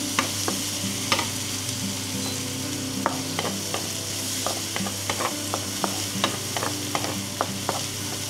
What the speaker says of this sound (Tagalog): gigisa lang natin hanggang sa mag-golden brown para lumabas yung lasa.